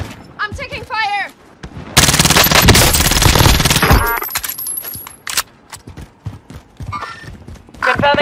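Dense burst of rapid automatic gunfire rattles through a Call of Duty: Warzone match on Rebirth Island, lasting about two seconds amid scattered game effects and a brief rising electronic tone.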